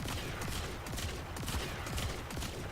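Rapid, steady gunfire from the Catchmoon kit-gun in the video game Warframe, a dense continuous fusillade of shots with impact noise throughout, loud and sustained without talk.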